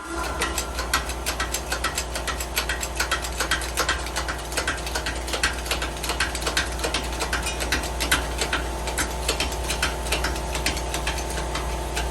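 A socket ratchet clicks in fast, even bursts while working loose a Yugo/Fiat wheel bearing, the metallic pawl ticking close and loud over a constant low hum.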